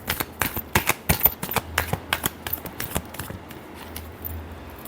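Tarot cards shuffled by hand in a quick run of crisp riffling snaps, close and loud, tapering off toward the end.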